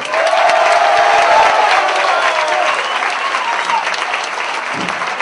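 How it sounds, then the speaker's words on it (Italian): Audience at a live comedy show in an Italian venue breaks into loud, dense applause mixed with a few cheers and whoops, sustained throughout with a brief voice near the end. "Signori, facciamo un applauso al fino."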